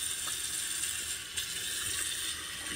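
Water streams steadily from a tap over a shaving bowl and brush being rinsed, a constant close hiss with faint clinks, and no one talks.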